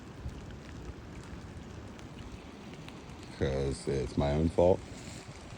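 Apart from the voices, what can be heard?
strong wind over choppy lake water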